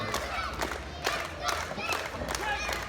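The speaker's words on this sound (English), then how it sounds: "Crowd's trying to get behind Jake St. Patrick right now" A wrestling crowd cheers and shouts in a continuous rowdy roar with scattered claps, while a commentator talks over it.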